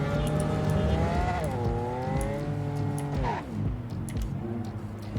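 A fast car engine in the video game Cyberpunk 2077 roars and revs continuously, its pitch rising and dropping with gear shifts, with a brief tire screech partway through.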